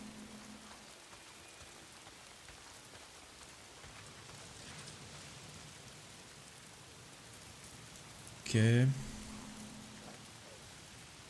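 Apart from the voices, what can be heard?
rain falling in the video game Days Gone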